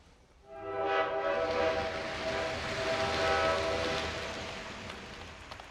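In a Sopranos scene, a train rushes into a tunnel, its horn sounding a sustained multi-tone blast over a swelling rumble of rolling wheels that slowly fades.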